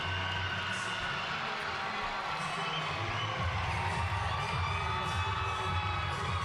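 Crowd in a college gymnastics arena cheers and shouts, a steady roar of many voices that swells toward the end.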